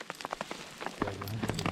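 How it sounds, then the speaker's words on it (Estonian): Large hailstones pelt the ground during a mountain hike between Mestia and Ushguli in Georgia, a dense patter of sharp close taps and thuds that thickens halfway through. "Nüüd see ajab rahet. Nii suured terad on, et reaalselt valus on."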